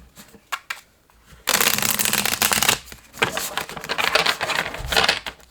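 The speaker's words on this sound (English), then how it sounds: "one more shuffle" Tarot cards being shuffled by hand: a few light taps, then a long crisp riffling burst, followed by a looser stretch of flicking and sliding cards, close and clear with no talking.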